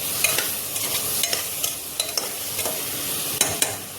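Masala frying in a pan, a steady close-up sizzle broken by repeated sharp scraping clicks of a spoon stirring against the metal at an uneven pace.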